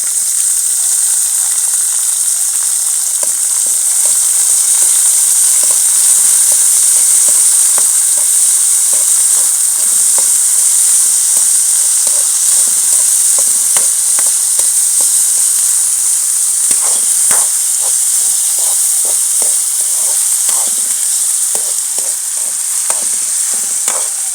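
Onion, gram flour, green chili and garlic fry for kadhi, a steady close sizzle and hiss broken by repeated scraping and stirring strokes throughout.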